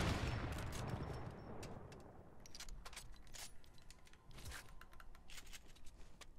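Rapid bursts of gunfire in a multiplayer shooter game, scattered shots ringing out at middle distance over a steady background rumble, with no voices.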